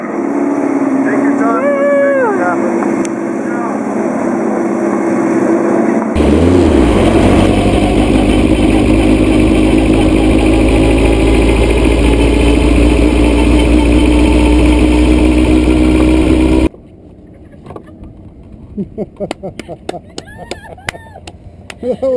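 A Datsun-Porsche Formula Super Vee race car engine idles and revs as it pulls into the pits at a Las Vegas track, loud and close in the middle, with cutaway scenes of voices and other engine noise before and after.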